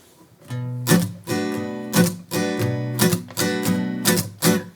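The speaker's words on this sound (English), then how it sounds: "It's the Soca or Soul Calypso feel" Acoustic-style guitar strummed in a Soca or Soul Calypso rhythm, a steady syncopated pattern of bright chord strokes with accented downbeats, close and clear with no voices.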